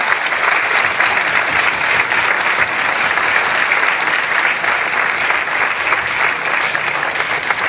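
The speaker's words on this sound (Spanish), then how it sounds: "con un aplauso muy especial" An audience at a legal symposium gives loud, continuous applause, a thick even wash of many hands clapping at once that carries on unbroken throughout.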